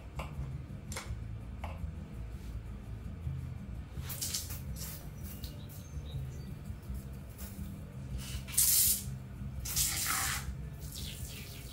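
Liquid drips from the fork of a 1985 Vmax motorcycle during a fork seal change, heard as faint, irregular ticks and small splashes that grow louder toward the end, with no talking.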